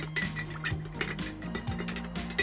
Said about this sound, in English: we're going to give that a quick stir for you